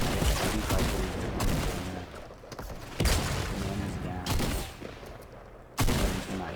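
Fortnite gunfire and rocket launches crackle in repeated bursts, with sharp loud blasts around three and six seconds over dense battle noise and a voice talking throughout.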